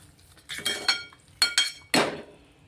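A metal spoon clinks and scrapes against a pan as semolina sheera with sugar is stirred for a festival offering. Several sharp, close clinks come in small bursts with quiet gaps between them and no talking.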